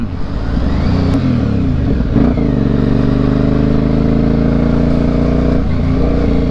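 A modified Yamaha Byson motorcycle with a 750 cc two-cylinder engine runs loudly and close up, its steady throaty drone rising and settling in pitch, with no voices.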